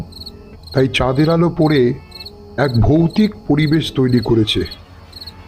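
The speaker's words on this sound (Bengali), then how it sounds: "ঝিঝি পোকার ডাক" Crickets chirp at night in a thinly wooded area behind a house, a steady high faint trill running beneath continuous narration.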